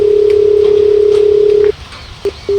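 A telephone call tone sounds as one loud, steady electronic note for nearly two seconds, then breaks into short, sharp beeps after a pause.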